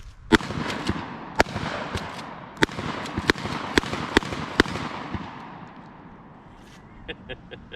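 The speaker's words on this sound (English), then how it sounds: "7 rounds of 12 gauge, and it's a great pump action shotgun, Slamfire" A Winchester 1912 12 gauge pump action shotgun slam-firing outdoors, about seven sharp, loud blasts in quick succession with echoing decay between them, followed by softer mechanical clacks of the action.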